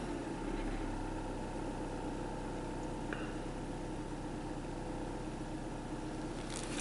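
A 2001 Saturn Coupe that runs rich settles back to a steady idle, a constant low engine drone heard close and unbroken throughout.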